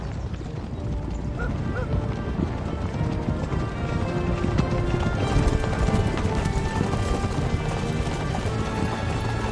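Horse hooves clip-clop steadily in Kingdom Come Deliverance 2, a dense, continuous patter of a ridden horse sitting under a full mix of game ambience and a faint voice.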